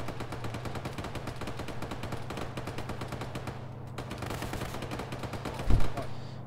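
Rapid machine gun fire in the tactical shooter game ARMA, a dense, steady rattle of bursts running throughout with a low background hum, ending in a sharper, louder burst near the end.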